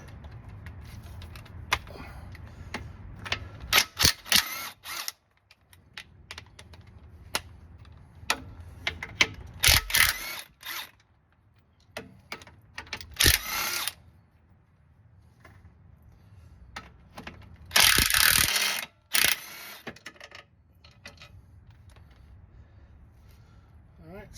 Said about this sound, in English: So now we're going to remove the transmission mount from the bottom of the transmission. Should be 4 16mm